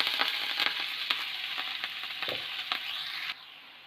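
Chopped onion fries in hot oil with fresh curry leaves and fennel for masala dosa potato filling, a bright steady sizzle with soft periodic stirring clicks, close up, until the hiss cuts off abruptly near the end, no voice.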